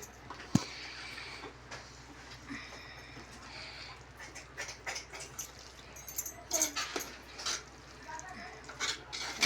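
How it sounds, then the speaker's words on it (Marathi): Scraping and clinking of a utensil stirring biryani gravy inside a pot, irregular strokes growing busier toward the end, with faint background noise. "बघा आत खालून फिरवून घ्या"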